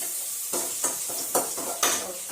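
Tomato tossed into a hot frying pan sizzles steadily while a utensil stirs it, with four distinct scraping strokes repeating about every half second over the continuous frying hiss, close and alone without talk.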